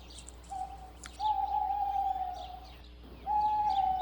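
A great gray owl calls with three drawn-out, even hoots heard at moderate distance. Faint chirps from other birds and quiet background hiss sit beneath them.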